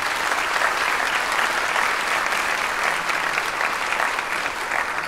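An audience at a CLEFA conference in Santo Domingo claps for architect Rosy Abinader of the IOM, a dense, steady round of applause from a sizable crowd lasting several seconds.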